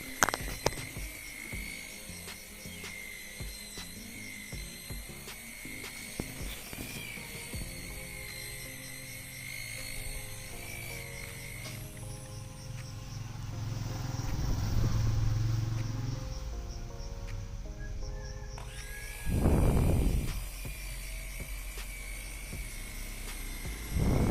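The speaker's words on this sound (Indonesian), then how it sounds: "Kita poles kembali. Kita gosok-gosok hingga cat kembali mengkilap ya teman-teman." A car polishing machine buffs dull body paint on the rear side of a car: a steady, close mechanical whine and hum runs throughout, its pitch and load shifting as the pad presses and rubs, with no speech.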